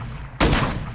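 A bomb goes off in a first-person shooter team deathmatch on a border crossing map: one sudden, loud, close blast after a quiet moment, followed by a rumbling roar that fades slowly.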